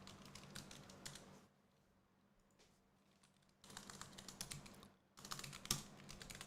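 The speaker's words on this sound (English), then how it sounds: "I know you can hear the clickety clacks." Typing clicks clatter on a computer keyboard in quick, close bursts at the start and end, with a quieter gap in the middle and one sharper tap near the close.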